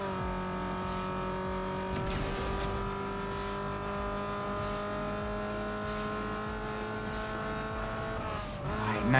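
In Need for Speed Underground 2, a race car's engine holds a loud, steady high-revving whine throughout, with a brief tire squeal early on and the pitch shifting slightly near the end.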